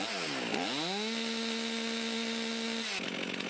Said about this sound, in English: Now that the chain is stopped and the saw is at idle